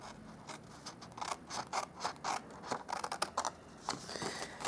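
Scissors snip through paper for a punch art Christmas reindeer gift box, a close series of quick, irregular cutting strokes and crisp paper rustles.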